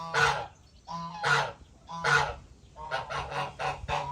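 A few geese honk close by in loud, repeated bursts, three spaced calls and then a faster run of overlapping honks, with no voices among them.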